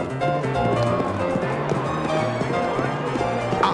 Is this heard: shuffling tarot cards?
no